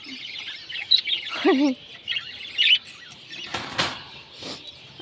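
Pet birds kept at home, a pair with young, give short high chirps and a few tweets with brief wing flutters, moderately close and intermittent, with no talking.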